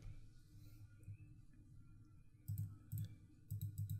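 Computer mouse clicks during photo editing software work, a faint room hum for the first couple of seconds and then quick close clicks in small clusters.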